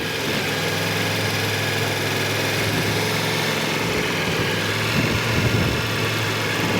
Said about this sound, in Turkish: Motor beni takip ediyor.